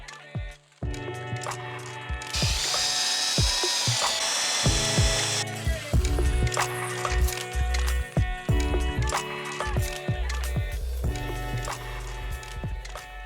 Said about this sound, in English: Then I created some templates and started cutting out and bonding on the SaniClad panels